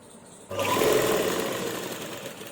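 Sewing machine running fast as it stitches closely along an invisible zip on a kameez or blouse, a steady loud whirring hum that starts abruptly and carries on alone.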